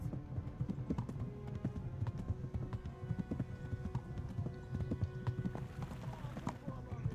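Rapid hoofbeats clop in a steady galloping rhythm, with speech over the top, from a horse in the video game Kingdom Come: Deliverance.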